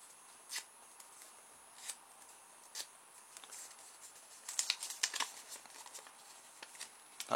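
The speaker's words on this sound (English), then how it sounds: "And if I fold it in half and then fold that" A paper disc is folded in half and then into quarters, quiet close crinkling and creasing rustles in short bursts, busier toward the middle, in a near-silent room.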